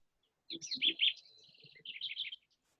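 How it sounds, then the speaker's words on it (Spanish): Small bird chirping and tweeting in short bursts, fairly clear and close, with soft low thumps underneath and no talking. "El pajarito"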